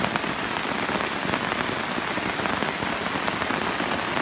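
Steady rain falling on an Appalachian Trail hike, a dense, continuous hiss of drops hitting surfaces, fairly loud and unbroken with no voices.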